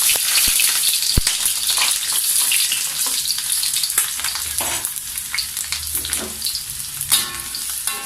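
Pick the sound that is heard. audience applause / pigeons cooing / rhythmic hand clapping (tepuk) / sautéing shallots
sautéing shallots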